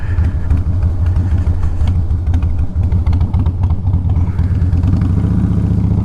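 A big truck idles and rumbles close by at a Harley Davidson dealership in Franklin, with a loud, steady low engine throb and clattering. The pitch shifts slightly near the end.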